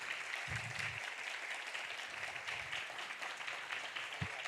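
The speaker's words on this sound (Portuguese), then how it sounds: "Aplausos, por favor" Quiet, steady applause rises from an audience welcoming speakers to a Portuguese-language poetry conversation, soft and even, with a few low thumps underneath.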